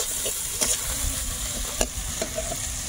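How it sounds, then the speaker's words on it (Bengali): Onions fry in oil in a wok as prawn curry is started: a steady close sizzle with several sharp clinks and scrapes of a spatula stirring against the pan. "পেঁয়াজ দিলাম তেলের মধ্যে, একটু পেঁয়াজটাকে ভেজে নেব।"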